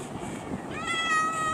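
A cat in the Minecraft video game lets out a single short, high meow with a rising-then-falling tone near the end, heard over faint background game noise.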